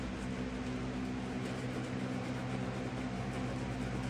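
An electric fan runs in a bathroom, giving a steady mechanical hum with a low tonal drone and an even airy whoosh, constant and close throughout without any voices.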